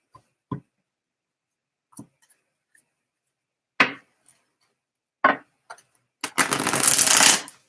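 Tarot cards being shuffled by hand: a few scattered soft taps and riffles, then a dense, loud burst of rapid card shuffling toward the end, with no talking.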